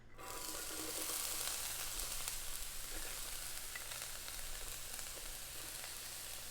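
Untoasted sesame oil sizzles steadily in a hot pan, a continuous close crackling hiss that begins abruptly and holds even throughout, with no talking.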